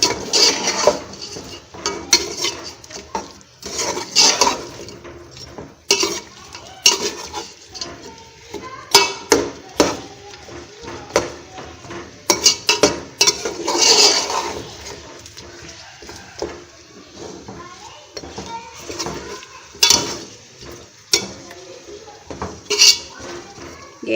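Chicken degi korma being mixed with garam masala in a pot, with repeated clinks and scrapes of a utensil against the metal at an irregular stirring rhythm, fairly close and with no talk.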